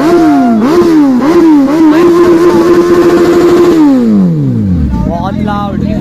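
A TVS Ntorq scooter engine revs hard and loud up close in repeated surges that settle into a sustained high whine, then drop away as the revs fall, with a voice talking over it.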